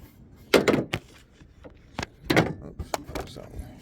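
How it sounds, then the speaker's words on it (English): A Nissan Qashqai car door shuts with a couple of sharp thuds, followed by quieter clicks of the lock engaging; faint voices in the background. "Just gonna lock the door,"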